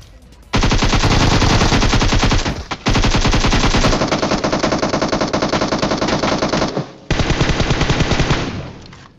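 Rapid automatic gunfire in a solo-versus-squad battle royale shooter game, loud and close, in long sustained bursts with two brief pauses.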